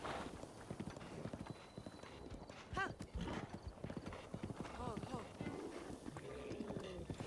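Video game horse clip-clopping at a gallop with a clear neigh partway through, in a Zelda-style open world, under background game sound and scattered talk.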